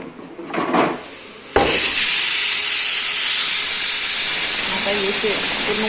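A pressure cooker of dal khichdi releasing steam: a few soft knocks and handling sounds, then a sudden loud, continuous hiss bursts out and holds steady and close for over four seconds.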